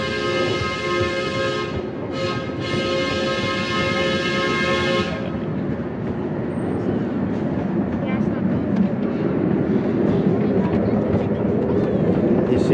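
The Redwood Valley Railway miniature steam train in Tilden Park, Berkeley, sounds a long multi-tone whistle, then rumbles steadily along the track with continuous running noise. A voice talks over it.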